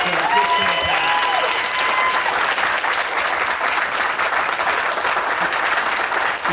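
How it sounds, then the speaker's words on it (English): Sustained, loud applause from a community forum audience for the panel, a dense steady wash of clapping filling the room without letup. "have everybody here give a huge round of applause for our panel"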